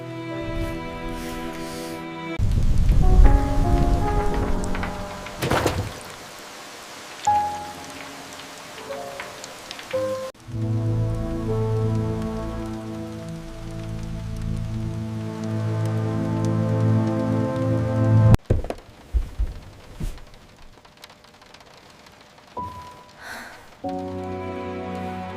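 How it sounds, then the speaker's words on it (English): Heavy rain falls steadily outside a home on a rainy day, a continuous wash of drops that runs under fairly loud music throughout. "It's raining much harder now."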